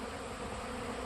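Honeybees buzz in a continuous, even drone at a holding area near the bee yards, a southern apiary being readied ahead of a hurricane, with no voices over it.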